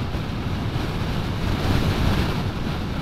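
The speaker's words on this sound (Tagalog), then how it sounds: "lakas talaga ng hangin" Strong wind buffets a motorcycle rider's microphone in a loud, steady rumble, with a faint wash of water underneath and no voices.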